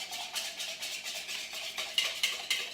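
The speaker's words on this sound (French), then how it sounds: "Donc, on mélange." A flour and butter roux, cooked briefly for a béchamel sauce, is whisked in a bowl, giving a soft, steady rhythmic scraping with a few sharper clicks near the end.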